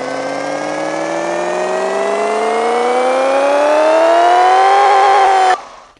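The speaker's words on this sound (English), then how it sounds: "Let's put this thing on the dyno and see how much power we can make." Car engine in the video game Pixel Car Racer, revving on a dyno: a loud, buzzing synthetic drone climbs steadily in pitch for about five seconds, then cuts off abruptly.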